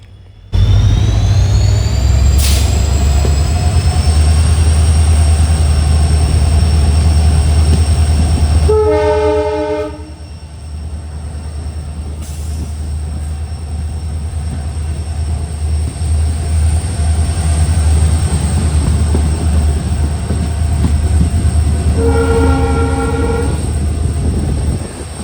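A diesel locomotive hauling the Malabar Express rumbles past loud and close, its horn blaring at the start and again near the end over a steady, heavy engine drone and rolling wagon noise.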